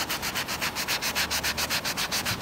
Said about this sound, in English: So I think it's dry enough to sand, so I'm gonna try to sand it.